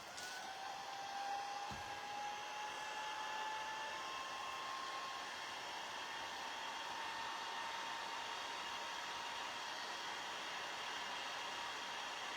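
A hair dryer blows steadily while drying craft pieces, a loud continuous whooshing roar with a faint whine that holds unchanged for about twelve seconds, with no talking.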